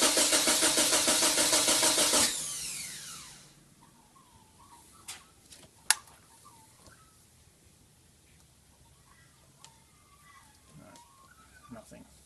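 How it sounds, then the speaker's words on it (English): Subaru EA82T turbo engine with a Megasquirt MS3x setup cranking over on a remote starter for about two seconds, a loud rhythmic pulsing that stops abruptly and leaves faint clicks and rustling. "Now I'm going to use my remote start and crank it over and see what we get."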